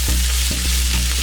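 Bitter gourd stir-fry being turned in a pan, with loud close sizzling and several scraping strokes of a spoon against the pan across a short stretch, no voices.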